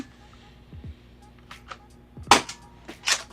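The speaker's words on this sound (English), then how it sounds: "we're just going to fire off a few into the chronograph here" A compact grip-fed Nerf PDW blaster fires foam darts into a chronograph: several sharp pops come singly and in quick pairs, close and fairly loud against a quiet background.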